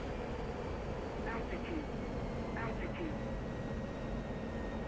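An F-16 jet in the DCS flight simulator game flies a slow, low demo approach, its engine a steady dense rumble throughout, with faint brief voice fragments over it.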